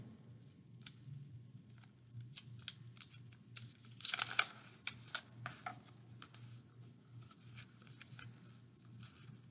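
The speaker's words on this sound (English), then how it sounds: "I'm going to secure my propeller so that it doesn't open with some tape" Tape is pulled and pressed onto a paper helicopter propeller, with soft crinkly rustles and a brief louder burst of tearing and crinkling near the middle, all quiet and close with no talk.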